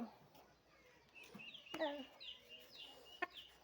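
A rooster clucks intermittently at moderate distance, a few short calls and bursts over a quiet yard with faint background voices.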